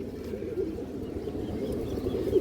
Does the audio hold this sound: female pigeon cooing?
yes